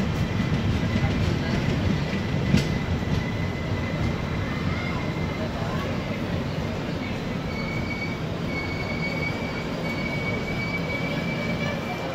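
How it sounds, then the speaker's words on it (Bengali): A passenger train pulls into Kamarkundu station, a steady rolling rumble of wheels on rails with faint squeals, heard from on board throughout. "নটা বেজে 43 মিনিট ট্রেন এখন পৌঁছালো কামারকুণ্ডু স্টেশনে"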